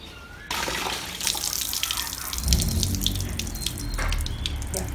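Tap water runs steadily into a sink as vegetables are rinsed and washed by hand, with splashing and dripping that swells midway, close and fairly loud with little else around.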